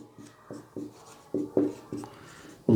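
Chalk or marker scratching on a classroom board during a lesson, a quick series of short irregular strokes and taps, close and fairly soft, with no speech over them.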